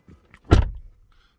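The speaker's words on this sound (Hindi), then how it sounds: "गाड़ी के डोर को मैं खोल के दिखा देता हूँ" Door of a Ford EcoSport diesel car opened by hand, a faint click followed by one loud, brief thunk of the latch and seal, heard alone at close range.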